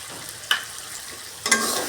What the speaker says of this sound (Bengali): এবার এটি আমি ভালো করে কষিয়ে নেব, যেন টমেটো থেকে তেল বের হয়ে আসে।